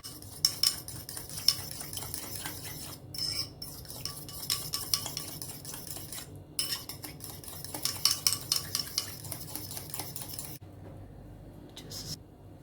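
A turkey, mango and avocado salad seasoned with black pepper is tossed in a bowl: utensils clink and scrape in a quick, busy rhythm, close and fairly loud, pausing briefly near the end.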